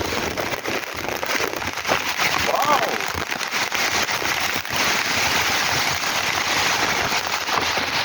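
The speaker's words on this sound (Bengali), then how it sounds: "খুব জোরে বৃষ্টি পড়ছে।" Heavy rain pours steadily onto a house rooftop in Kalyani, Nadia district, during a thunderstorm with gusty winds, a dense, continuous hiss with a person talking over it.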